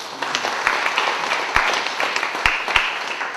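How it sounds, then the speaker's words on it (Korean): A church congregation gives welcoming applause after a sermon announcement, a steady wash of clapping from many hands with a few louder close claps standing out. "환영의 박수 한번 드리겠습니다."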